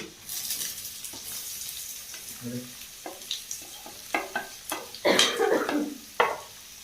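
Onions sizzle in desi ghee in a hot pan for a tempering for saag, while a utensil stirs and scrapes in irregular bursts, close up and without talk.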